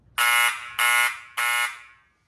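Three loud, harsh buzzer blasts sound on an electrical control panel during an overcurrent relay test, each about a third of a second long with short gaps between, alone with no talking.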